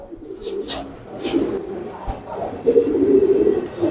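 Pigeons coo at the crowded Nalta pigeon market, low murmuring calls rising and falling continuously amid general market bustle, with faint background chatter.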